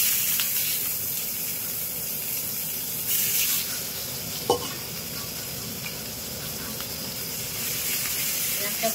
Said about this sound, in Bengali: পেঁয়াজটা একটু ভেজে নেবো এটাতে।